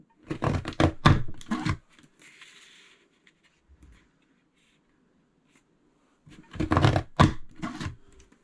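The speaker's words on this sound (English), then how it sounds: "you punch and slide, again, covering up your silhouette, matching that triangle if necessary, and you keep going till you reach the end of the paper" A Creative Memories decorative border punch cuts paper, with quick clustered punching clicks and thunks in two bursts separated by a quiet stretch of soft sliding.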